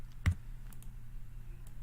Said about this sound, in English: So to enter data, you just click on a cell, start typing,